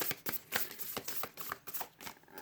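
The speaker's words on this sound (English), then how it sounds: "let me just finish this shuffle" Cards being shuffled close by, a rapid series of papery riffles and snaps in uneven bursts, with no talking.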